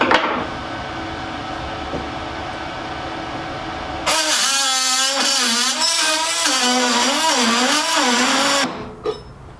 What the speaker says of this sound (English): That's the sound of me off screen with an oscillator tool fixing a mistake that I made.